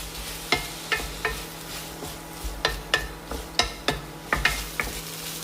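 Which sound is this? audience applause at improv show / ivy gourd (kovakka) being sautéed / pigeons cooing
ivy gourd (kovakka) being sautéed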